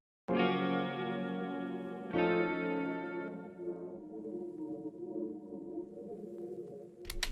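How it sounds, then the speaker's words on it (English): A lush, wide synth pad swells in twice, shimmering with a chorus wobble and slowly fading, quiet and airy. "which I just meshed together to make myself a dope pad"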